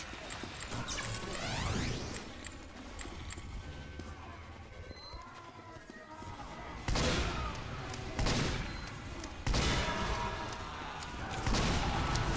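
Ambassador revolver shots in a Team Fortress 2 match crack out as sharp, loud bursts at irregular intervals over busy game noise and clatter, several spaced reports standing out in the second half.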